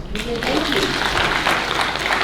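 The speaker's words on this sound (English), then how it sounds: "Clap for us." Conference audience at a meeting-management session bursts into brief, dense clapping, close and steady for a couple of seconds with no talk over it.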